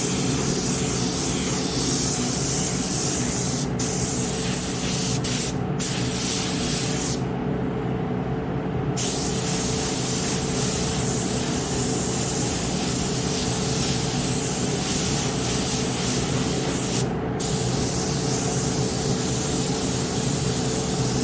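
Lacquer sprayed from a spray gun onto car parts: a loud, continuous close-up hiss, broken by a few short pauses between passes.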